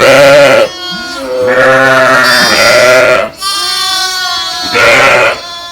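Ewes on a farm bleat loudly and repeatedly for their newborn twin lambs, several long harmonic calls overlapping close by, with brief pauses between them.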